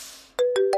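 A mobile phone rings with an incoming call: a few short, bright electronic tone bursts in quick succession, loud and close, with no talking around them.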